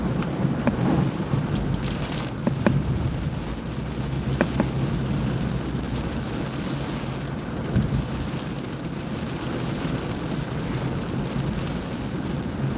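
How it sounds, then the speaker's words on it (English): Heavy thunderstorm with steady rain pouring and rolling thunder rumbling in the distance, a continuous dense wash of sound with occasional louder cracks. "That was a pretty big storm."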